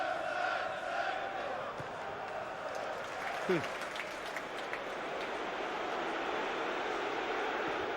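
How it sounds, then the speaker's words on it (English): A football crowd at a Chelsea versus Tottenham Premier League match roars and shouts for a player to shoot, a broad, distant swell of voices that rises briefly, with a commentator speaking over it. "Crowd encouraging him to shoot"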